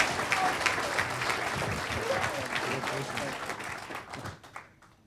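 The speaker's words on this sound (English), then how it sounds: "if you can give them an applause just for that." Audience members at a scholarship luncheon give a warm round of applause, dense clapping that runs steadily before thinning out and fading to quiet at the end.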